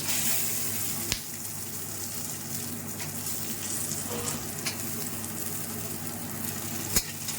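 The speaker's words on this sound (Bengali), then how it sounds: "কাজু বাদামটাও একটু ভেজে নেবো" Cashew nuts fry in a pan for a makhana snack, giving a steady close hiss of sizzling oil with a few sharp clicks of stirring.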